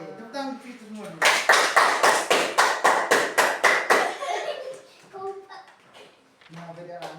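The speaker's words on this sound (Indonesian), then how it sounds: "tepuk tangan itu semua dulu." Classroom children clap hands in a quick, rhythmic burst of about a dozen loud, evenly spaced claps, with children's voices speaking before and after.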